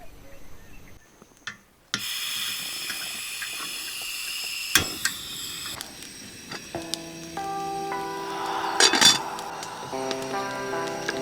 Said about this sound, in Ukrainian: О, кипить. Кипить, хорошо.